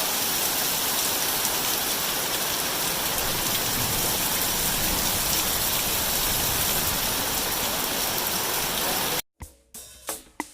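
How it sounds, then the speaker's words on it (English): Heavy rain pours down steadily at an Appalachian Trail shelter, a dense, loud, continuous hiss of drops on surfaces that stops abruptly near the end, leaving a few scattered knocks. "That's a heck of a rain."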